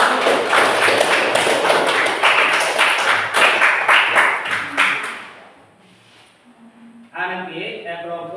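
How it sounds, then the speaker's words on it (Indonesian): Classroom applause for a presenting student group, a burst of dense, close clapping lasting about five seconds that fades out, followed by a pause and then someone speaking. "Kasih aplaus dulu."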